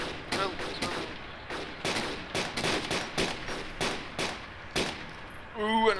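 Rapid bursts of video game gunfire crack repeatedly across a bridge scene, a dozen sharp shots spaced irregularly over steady background noise, with a voice briefly speaking near the end.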